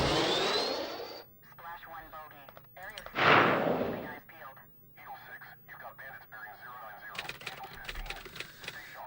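Missile launch and gunfire in Xenonauts 2 air combat: a bright whooshing streak at the start, a second loud burst a few seconds later, then scattered crackling shots and clicks at moderate level.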